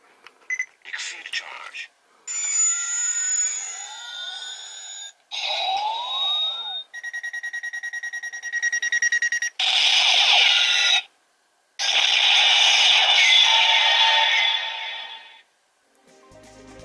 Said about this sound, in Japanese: こちらのエクシードチャージってやったときにピピピピピって音が鳴って